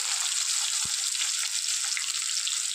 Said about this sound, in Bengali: আর তার সঙ্গে আলুগুলোও দিয়ে দেবো।